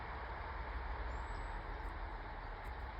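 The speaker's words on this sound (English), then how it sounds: "I think I can hear the railway." A faint, distant rumble of a train on a main railway line heard from Middle Hill, Warminster, a steady low roar in open air.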